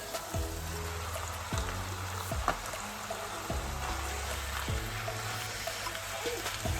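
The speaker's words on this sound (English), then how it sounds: "Now I'm going to add this beef mince, cook it for 2 minutes." Beef mince fries in a pan for burger patties with a continuous crackling sizzle, dense and rain-like, steady from start to finish with occasional sharper pops.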